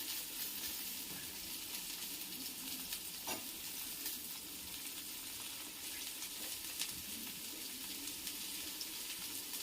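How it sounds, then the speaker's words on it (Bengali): Potato and eggplant pieces fry in a pan with a continuous bright sizzle and a few stirring scrapes, steady, faint and close, with no one speaking. "ঝালটা ছোটো করে আলু বেগুনটাকে প্রথমে ভেজে নিচ্ছি"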